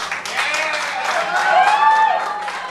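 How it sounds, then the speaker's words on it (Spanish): Applause from the audience at a live Latin music show in Seattle. It is loud, close and steady for a few seconds, with crowd cheering mixed into the clapping. "Un aplauso a la diva, por favor."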